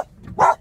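Dogs running loose through a rural neighbourhood, chasing hares and foxes; one loud, close bark rings out, with a softer yip just before and after it.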